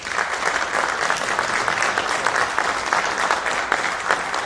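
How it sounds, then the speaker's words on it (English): An audience at a band directors conference applauds steadily and loudly throughout, a dense wash of clapping with no voices standing out. "So give them a round of applause."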